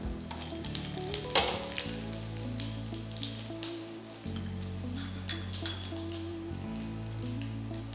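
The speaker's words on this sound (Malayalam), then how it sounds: "കടുക് ഒന്ന് പൊട്ടി തുടങ്ങുമ്പം" Half a teaspoon of mustard seeds sizzles and pops in hot oil for a kofta curry, a continuous fry hiss dotted with sharp crackles and occasional stirring clinks, alone and close.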